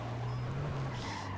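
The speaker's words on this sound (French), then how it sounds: "Y'a un quad derrière nous." A video game quad bike's motor drones low and close, with a faint rising whine near the end, running continuously.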